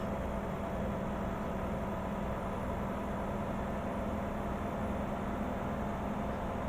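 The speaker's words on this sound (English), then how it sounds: "Got an interesting sound to it, this engine. It's got a little whistle to it." Steady truck engine drone with a faint whistle in American Truck Simulator, a continuous even hum with no change in pitch or loudness throughout.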